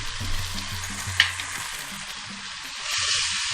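Ground turmeric, chili, coriander and cumin sizzling in hot oil as they are stirred, a steady close hiss punctuated by low scraping strokes and one sharp clink, swelling louder toward the end.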